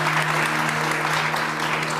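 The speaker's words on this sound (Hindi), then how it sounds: "बहुत सारी तालियां आंटी के लिए।" Applause from a TV show studio audience for an older woman guest, a steady, dense clapping that holds loud and even throughout with no talk over it.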